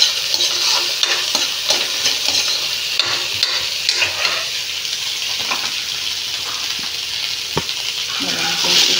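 Garlic and onion sautéing with other ingredients, a loud, close, continuous sizzle broken by frequent stirring and scraping of the pan, with no voices.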